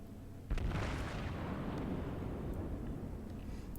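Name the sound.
battleship naval gun shells firing in World of Warships video game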